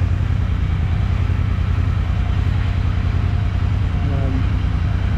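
Up close, the exhaust of an idling Royal Enfield Interceptor 650 rumbles loud and low. It beats out a fast, regular pulse, with faint brief tones rising near the end.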